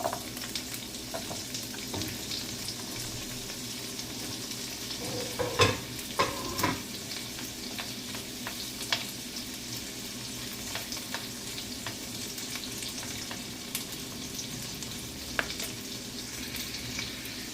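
Garlic and tofu fry in a pan on a stove with a soft, continuous sizzle. Occasional spatula clinks and scrapes come through, with a few sharper knocks near the middle. The sound is fairly quiet and close.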